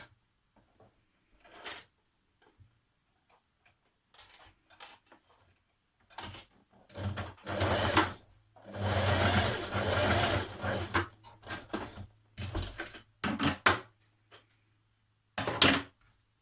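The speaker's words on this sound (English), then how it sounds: "you're going to stitch 2 tie ends together at the notched edge" Domestic sewing machine stitching two dress tie ends together at a notched edge with a narrow seam, short whirring runs in irregular stop-start bursts, a longer run midway, close and alone with faint handling clicks between.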